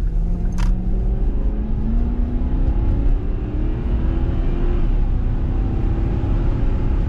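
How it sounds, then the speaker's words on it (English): A V8 Jaguar S-Type's engine runs steadily up close, a deep continuous rumble with a faint raspy edge and a gently rising and falling tone, plus one brief click near the start and no voices. "The sound of this V8 is super nice as well."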